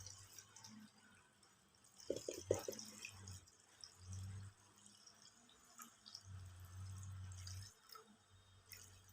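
Water poured into a cooking pot with spices for mutton paya, a soft trickling pour heard in a few faint bursts amid quiet kitchen background noise.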